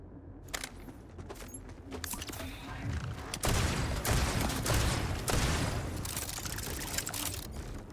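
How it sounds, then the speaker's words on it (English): Spread launcher firing in the shooter game Borderlands 4, a dense run of rapid crackling blasts that builds to a loud, sustained barrage of overlapping impacts. "I got the TK's wave with a spread launcher"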